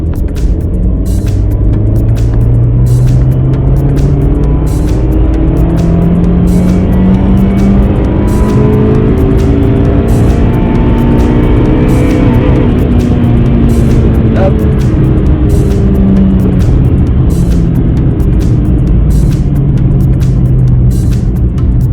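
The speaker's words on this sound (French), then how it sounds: "on va partir en deuxième et à 2000 tours, on va mettre godasse jusqu'au rupteur" Honda car with an ethanol-mapped engine pulls hard in second gear from 2000 rpm up to the rev limiter, a loud close engine note climbing steadily in pitch and holding at the limiter throughout.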